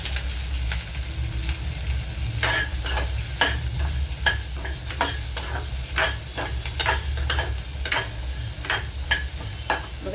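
Carrot pieces stirred into urad dal frying in oil in a pan, a continuous low sizzle punctuated by repeated scraping stirs of a spoon against the pan.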